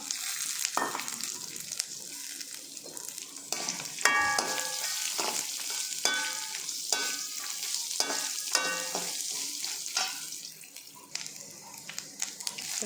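Urad dal, dried red chillies and coconut sautéing and being stirred in a pan for a vallarai chutney, with a steady sizzle, frequent utensil scrapes and clinks, and no talking.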